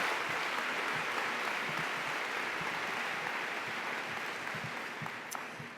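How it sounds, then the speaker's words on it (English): Sustained applause from a convocation audience welcoming students at a school district event, a dense steady clatter of clapping hands that holds evenly for about six seconds before gradually thinning toward the end. "let's give all of our students another round of applause and appreciation for joining us this morning"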